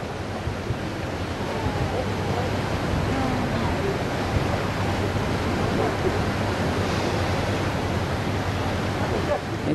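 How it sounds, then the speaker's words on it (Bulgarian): Wind and water rushing past the deck of a Nile cruise ship, a loud, steady broadband wash of surf-like noise with wind buffeting the microphone throughout. "Ето ни на палубата на кораба."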